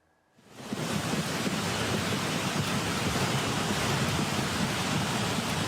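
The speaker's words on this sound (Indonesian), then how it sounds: "Arus air yang membesar terlihat menghanyutkan potongan kayu dan batu-batu berukuran besar" Floodwater rushes in a swollen flash-flood current after heavy rain near Maninjau in Agam, West Sumatra, carrying wood and large stones; a loud, steady broadband roar rises from near silence and then holds unbroken.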